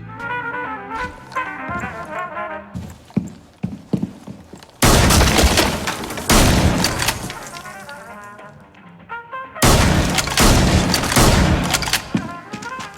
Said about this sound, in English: take a shotgun, blow a hole in the wall